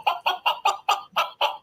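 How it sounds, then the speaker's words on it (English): Chickens cluck in a quick, even run of about seven sharp clucks, close and fairly loud, with no voices. "Somebody let the chickens loose."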